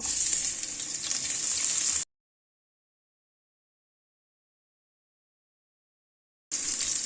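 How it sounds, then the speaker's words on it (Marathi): Cumin seeds and garlic sizzling in hot oil for a crunchy puffed-rice chiwda, a steady bright frying hiss that stops abruptly for several seconds of silence and then resumes, with no talking. "हे बघा तेल आता मस्त तापलेलं आहे यात मी थोडंसं जिरं टाकते आणि जिरं टाकल्यानंतर इथं मी लसूण टाकते"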